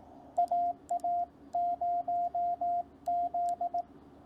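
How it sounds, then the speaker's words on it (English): Morse code spelling out the call sign AA0Z, sent as a clean steady sidetone of short dits and longer dahs in three quick groups, loud and close with no talk. "Now that we know what it is, number 6, AA0Z"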